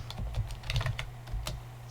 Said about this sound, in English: See, he's typing.